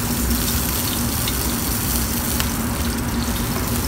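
A NY strip steak fries in a hot pan, giving a steady, loud, close sizzle and crackle that runs without a break, with no voices.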